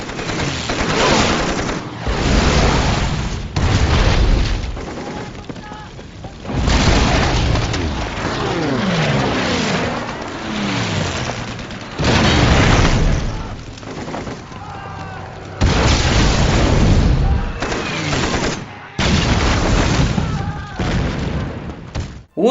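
Loud bursts of gunfire and heavy booms from air raids in the film Letters from Iwo Jima recur in waves, with thuds and crackling blasts, and shouting voices surface between the barrages.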